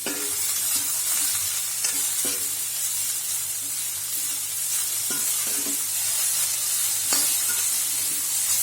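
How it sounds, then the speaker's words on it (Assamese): Chopped banana stem with turmeric and salt fries in a pan, a continuous close sizzle broken by repeated scraping and stirring strokes, with no voices. "এনেদৰে 2-3 মিনিট সময় মই ভাজি ল'ম এইখিনি"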